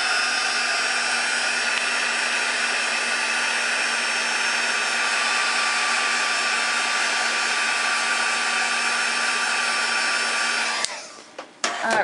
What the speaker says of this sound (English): I'm just going to heat set the Modge Podge just to get it to dry faster